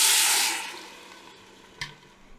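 Vegetable broth pours into a pot of warm vegetables for a vegetarian gumbo, a brief watery splash that fades quickly, followed by a faint clink and a soft knock.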